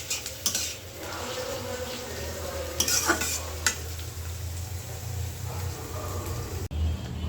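A Bengali fish curry of katla tail pieces bubbling in a pan, a low bubbling simmer under scattered clinks of a spoon against the metal, close and without talk.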